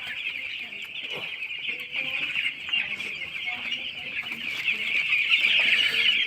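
A flock of broiler chicks, just vaccinated, peeps and clucks in a dense, continuous chorus of high chirps up close, growing slightly louder toward the end.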